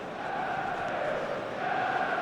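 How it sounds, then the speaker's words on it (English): Football stadium crowd in a video game match simulation, Manchester United against Nottingham Forest, a sustained roar and chant from a distant mass of fans, steady and loud throughout. "the crowd are reacting to that now"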